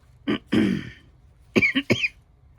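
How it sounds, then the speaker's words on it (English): Several dry coughs close up: two harsh bursts, a pause, then a quick cluster of three more, with near silence between them. "Please forgive my cough."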